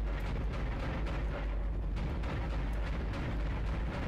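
A gun fires in the Dead Space video game, heavy booming bursts over a dense, loud, continuous rumble of game noise.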